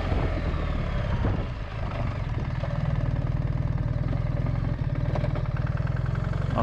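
A 2024 BMW R1300GS GS Trophy with automatic gearbox runs on the road, its engine giving a steady, loud low drone with a continuous throb throughout and no talking.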